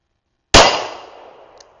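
A single sharp report from a Smith & Wesson 649 "Hump Back" revolver firing .38 rounds, with a loud abrupt crack that decays into a brief ringing tail.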